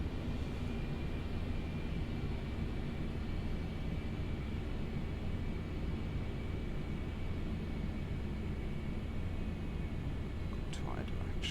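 Steady broadband roar of Concorde engines at reduced throttle in a flight simulator game, a constant, even drone with no talk, continuous throughout.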